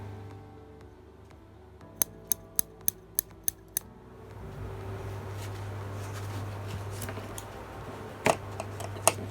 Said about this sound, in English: So let's get the scissors going.